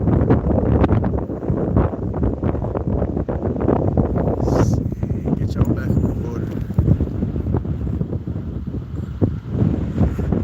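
Strong beach wind at Pensacola Beach blasting into a phone microphone, continuous loud rumbling buffets, with a person speaking briefly over it.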